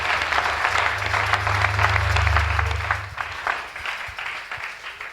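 A church congregation claps and applauds steadily in a reverberant hall, loud and continuous at first under a low sustained hum, then thinning into scattered claps.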